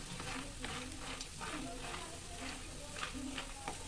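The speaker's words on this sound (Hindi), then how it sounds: "मखाने जो है इस तरीके से घी में इसको फ्राई कर लेंगे।" Makhana (fox nuts) frying in ghee in a pan as they are stirred, giving a steady sizzle with soft repeated scraping and clatter from the stirring, close and continuous with no speech.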